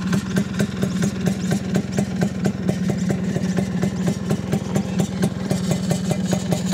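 A Vespa PX200 scooter with an aftermarket expansion chamber exhaust idles close by in a fast, even, thumping pulse with a slightly metallic rattle, steady and loud throughout.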